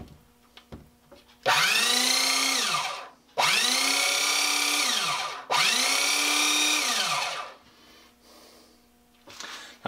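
A Black & Decker 7980 drill sharpener grinding a drill bit in three sustained whining bursts of about two seconds each, each pitch dipping and recovering as the bit is pressed, loud and close with short quiet gaps.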